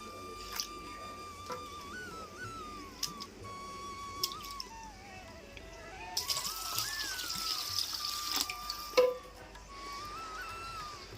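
Half a kilo of rice washed in water before soaking for a chicken pulao, with soft sloshing, pouring and trickling water throughout, a louder splashy stretch midway, and a steady thin tone running in the background.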